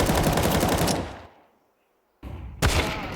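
Rifle gunfire in Counter-Strike during a pro match at IEM Cologne 2024, a loud rapid burst of automatic shots that cuts off, a short silence, then more firing resumes.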